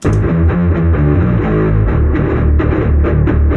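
A heavily distorted, pitched-down electric guitar riff plays loud and low, chugging in a steady rhythmic pattern with thick, fuzzy tone and no voices.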